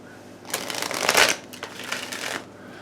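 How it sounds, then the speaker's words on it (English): A standard deck of playing cards being shuffled up close: a dense riffling burst that swells, pauses briefly, then rattles again before settling, loud and alone with no talking. "I'm actually going to shuffle this one standard for a second."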